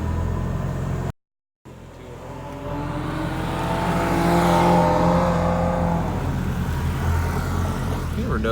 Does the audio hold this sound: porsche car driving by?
yes